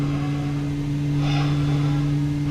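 Airbus A320 engines running in Microsoft Flight Simulator, a steady, even hum with a droning low tone that holds without pause, alone with no voices.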